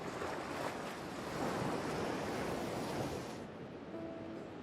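Ocean surf breaks on a Maldives beach in a continuous, full-bodied wash of noise with gusts of wind, heard alone with no talk.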